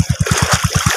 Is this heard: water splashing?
yes